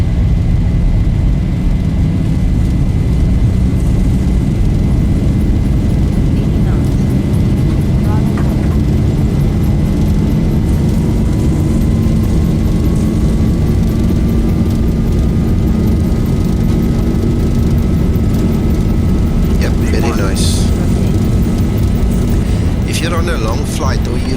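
An airliner's engines at takeoff thrust in the Zibo Mod flight simulator, departing Jerez for Madrid: a loud, constant low roar with a rising tonal whine, and voices talking over it.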